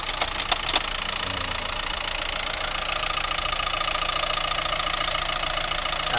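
A Renault Megane Sedan with a 1.5 engine idles with its hood open, a steady, fairly loud mechanical drone with a light ticking clatter running through it, opened by a few brief clicks at the start, with no speech.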